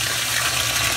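Water rushes steadily into a GE GTW680BSJWS top-load washing machine through hot and cold inlets, a loud, continuous gushing hiss that fills the drum quickly.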